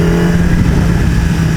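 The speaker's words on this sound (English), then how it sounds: "they probably could hear me still with my exhaust" A car's loud aftermarket exhaust rumbles steadily up close, holding a constant throaty drone with a strong low hum and no voices.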